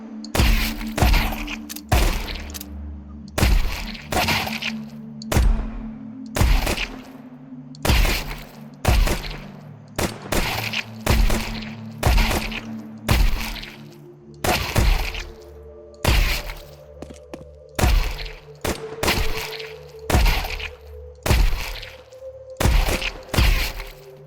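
Glock pistol shots in the video game Counter-Strike 2, a long run of sharp, loud cracking gunshots fired singly and in quick pairs at irregular intervals over a low steady hum.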